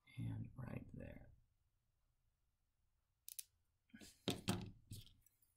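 Small cutters snip scrap photo-etched metal railing with two or three short, sharp clicks, heard up close after a pause following someone talking.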